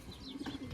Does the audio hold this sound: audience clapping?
no